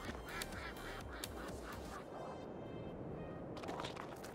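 Flock of ducks kept in a farm stall in Farming Simulator 22, repeated honking quacks in an uneven rhythm, faint and steady over a dense noisy background.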